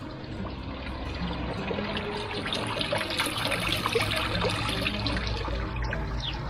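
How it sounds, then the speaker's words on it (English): Water trickles and splashes continuously at close range, a steady bubbling flow with no voices. "the sound of the water."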